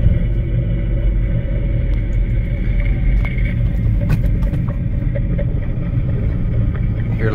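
Nissan Rogue with a worn front passenger-side wheel bearing, giving a loud continuous low rumble while driving, with faint knocks over the steady road drone.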